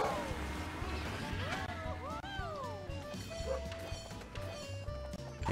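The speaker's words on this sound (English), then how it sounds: "I believe my animals whom I have in my house are barking right now." Pet dogs bark inside a house, faint and in the background beneath game music with rising and falling tones.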